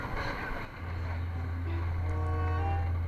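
A motorcycle engine, running rough after water got into it near a flooded Pampanga river, holds a steady low hum with faint wind and water noise around it.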